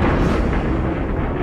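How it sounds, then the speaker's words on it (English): Building demolition blasts, a dense rumbling roar of explosions that stays loud through the whole brief moment, no talking. "a set of carefully planned explosions that cause the building to fall"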